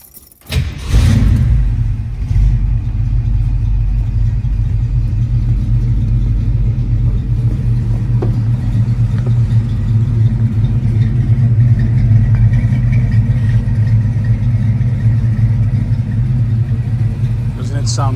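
A 1967 Ford Mustang engine cranks and catches, then settles into a loud, deep, steady rumbling idle that continues close by for the rest of the time.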